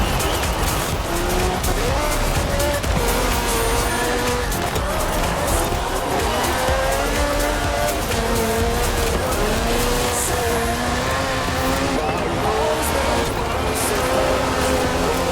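Racing car in the video game Forza Horizon 4 accelerating hard through corners, a steady loud engine roar rising and falling with gear shifts, with tire squeal and skidding throughout and no pauses.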